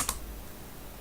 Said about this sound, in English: if I type in the IP address